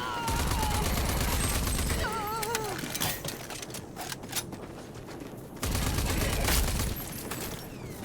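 Gunfire in the video game Rage 2: dense, rapid bursts of shots mixed with in-game music and effects, loud and continuous with a brief lull midway before firing resumes.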